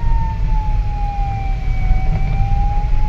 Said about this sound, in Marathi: सायरनची आली, मोठी आली